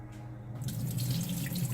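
Excess juice from a cooking ham poured off from a pan into a sink, a steady close liquid pour and splash that starts after a brief quieter moment and runs continuously.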